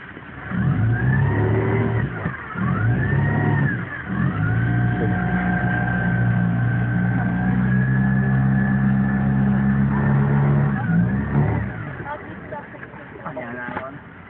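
Small motor vehicle engine revving and running steadily up close, with rising and falling pitch sweeps, heard alone before fading toward the end.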